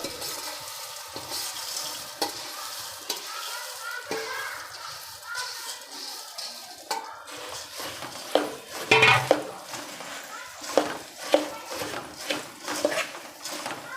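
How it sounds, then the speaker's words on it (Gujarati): A metal spoon scrapes and stirs puffed rice in a hot pan, with a steady gritty rustle, sizzling underneath and sharper clinks against the pan toward the end, close and fairly loud. "આ રીતે ચમચાની મદદથી સારી રીતે મિક્સ કરી લેશું."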